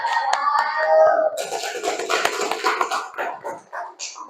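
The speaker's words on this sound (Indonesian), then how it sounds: "Tepuk tangan. Tepuk tangan." A primary school class clapping hands after a group presentation in an Indonesian classroom, starting after a teacher's voice and continuing as a brief burst of scattered claps.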